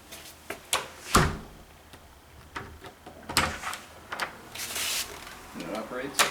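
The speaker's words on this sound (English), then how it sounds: "We're going to shut the door and see if it latches." An interior door fitted with a new Kwikset knob and deadbolt is shut and latches, giving a series of sharp knocks, clicks and rattles of the hardware, close up, with handling noise between the impacts.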